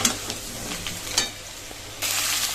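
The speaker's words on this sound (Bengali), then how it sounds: "আলুগুলো কিন্তু লাল লাল করে ভাজা হয়ে গেছে" Potato pieces frying in hot oil give a soft continuous sizzle with a few stirring clicks, growing louder and brighter near the end.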